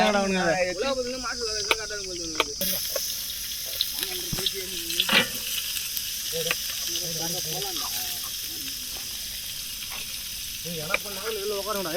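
Onions and beef sizzling in a pan, a steady close frying hiss that runs throughout while people talk at the start and intermittently over it.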